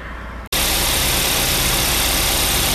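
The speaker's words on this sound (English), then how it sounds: "The engine bay with the GDI engine that you find in a lot of Hyundai cars." Hyundai Santa Fe GDI engine idling in the open engine bay, starting suddenly after a brief quiet moment and then holding a loud, steady, close-up drone with a ticking texture.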